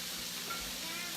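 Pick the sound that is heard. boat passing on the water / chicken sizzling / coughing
chicken sizzling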